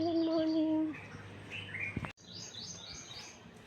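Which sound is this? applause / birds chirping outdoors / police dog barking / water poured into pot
birds chirping outdoors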